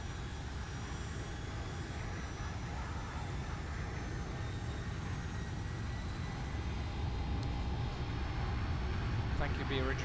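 A steady, loud, continuous engine drone from an aircraft in the X-Plane 11 flight simulator, holding constant for the whole stretch with a faint talking voice underneath.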